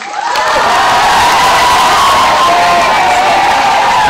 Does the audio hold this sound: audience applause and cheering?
yes